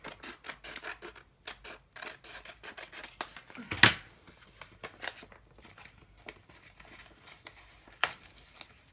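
A paper envelope is torn up by hand for a journal page. Quiet, close scratchy rustling and rubbing bursts build to one sharp rip, followed by softer crinkling.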